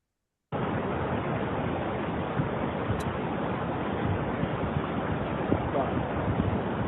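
The flooding Sandy River rushes past close to an access road, a steady, loud broadband roar of fast water that continues without pause.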